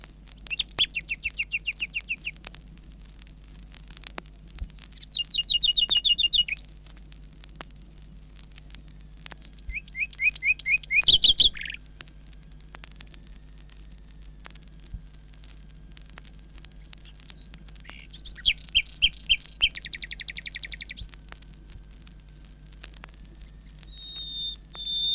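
A common nightingale sings hidden in a bush near water flowing toward a pond, delivering bursts of rapid trills and repeated notes separated by pauses, clear and fairly close over a faint low background hum.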